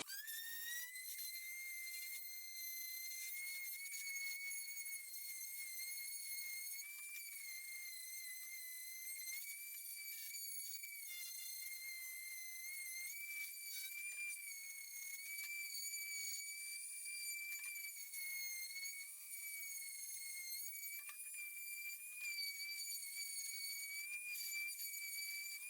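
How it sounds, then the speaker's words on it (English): A recycled wood mirror frame being sanded, heard as a steady, unbroken, high-pitched mechanical whine that stays close and fairly even in loudness throughout, with no voices. "So now I'm just going to sand it down and then give it a light coat of something to finish it off."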